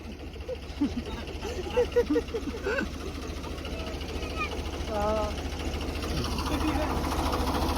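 A steady low tractor engine drone runs throughout, with people talking loudly over it and a rising rev near the end.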